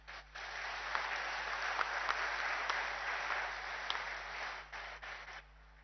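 A crowd claps steadily for several seconds at the inauguration of a cryogenic engine manufacturing facility, a dense patter of many hands that tapers off near the end.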